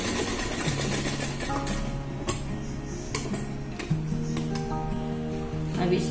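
Electric sewing machine stitching a side-cut slit kurti, a steady mechanical whir with rhythmic ticking clicks running throughout, close and fairly loud, with faint room noise.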